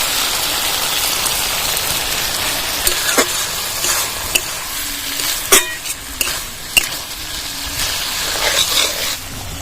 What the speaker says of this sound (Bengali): একটু চিনি দিয়ে দেবো একটু নাড়াচাড়া করে দেবো ভাজা বাদামটা ঢেলে দেবো